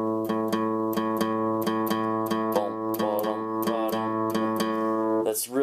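Blues guitar strummed in a limping shuffle rhythm, a steady run of evenly pulsed chord hits sounding close and loud on its own, with a brief change of texture near the end.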